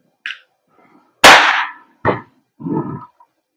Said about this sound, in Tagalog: Inserting the magazine. Okay, firing.